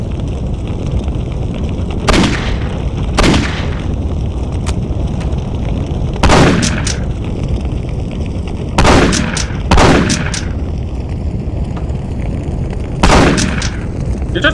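Shotgun blasts in the video game Postal 2, about seven loud sharp booms spaced irregularly, some in quick pairs, each with a short decaying tail over a steady background rumble.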